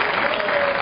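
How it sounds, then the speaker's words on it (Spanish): Studio audience applause for Inspector Pellejo, a brief, loud burst of dense clapping from a crowd lasting under a second. "aplauso al público con el que ando"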